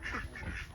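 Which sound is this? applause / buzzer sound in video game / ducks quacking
ducks quacking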